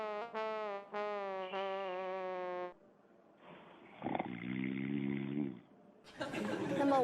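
A recording of a man snoring, played back on a health talk show: droning, buzzy snores in a few uneven bursts, then a rougher, rasping snore, with short quiet gaps and no talk.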